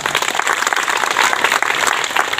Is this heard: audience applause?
yes